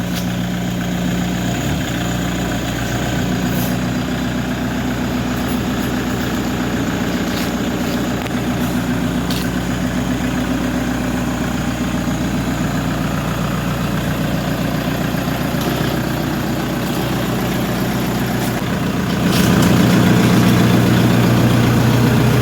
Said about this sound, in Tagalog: Naririnig nyo naman po yung tunog ng kanyang makina.